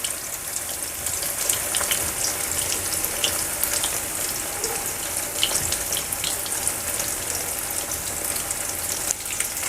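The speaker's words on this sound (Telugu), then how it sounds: "ఫిష్ ఫ్రై చేసేటప్పుడు మనం ఎప్పుడైనా మీడియం ఫ్లేమ్లో పెట్టుకోవాలండి" Fish fries in oil over a medium flame with a steady, bright sizzle that hisses evenly throughout, close and moderately loud, with tiny crackling pops scattered across it.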